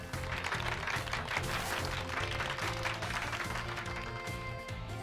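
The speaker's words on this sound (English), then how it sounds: "Give Pikachu a round of applause" Applause for Pikachu in the video game Pokémon Violet, a steady patter of clapping that runs the whole way through over a looping background music track, moderately quiet.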